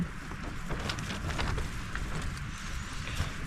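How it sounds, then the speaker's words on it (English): Steady rushing wind, gusting to about 20 miles an hour on an overnight mountain ridge meadow, buffets the microphone with a low rumble and gusty surges, constant throughout and fairly faint, with no voices. "some of these wind gusts have been pretty bad"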